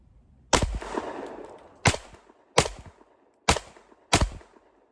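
Five sharp, loud pistol shots from a Shadow Systems CR920P ring out outdoors in cold weather, spaced roughly a second apart with brief echoing tails between them.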